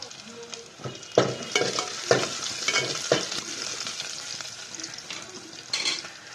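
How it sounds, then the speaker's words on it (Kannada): Crackling sizzle of dried red chillies dropped into hot oil for tempering, with bursts of spattering and stirring clatter, close up and fairly loud. "ಈಗ ಒಗ್ಗರಣೆಗೆ ಒಂದು ಎರಡು ಒಣಮೆಣಸಿನ್ಕಾಯಿ ಹಾಕ್ತಾ ಇದ್ದೀನಿ"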